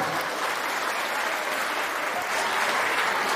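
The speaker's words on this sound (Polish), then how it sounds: "Kamil, jeszcze raz, wielkie brawa, nie jest to takie proste" Loud, dense applause from wedding guests after a couple's first dance to a Shostakovich waltz, a continuous close wash of clapping with no break.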